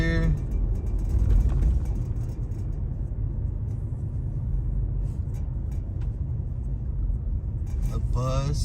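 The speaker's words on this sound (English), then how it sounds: "Oh, the bus is out here." A bus rumbles past outside with a steady, loud low-frequency engine drone lasting several seconds, broad road noise washing over everything without pause.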